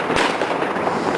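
Fireworks burst continuously in Qingdao, a dense, crackling barrage of firecracker pops and booms heard from a distance, with no gaps across the short moment.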